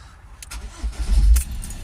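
A Ford Transit Custom van with a diesel particulate filter fault, in limp mode with the engine management light on, cranks and catches, swelling into a loud, close, low rumble partway through before easing back to a steady idle.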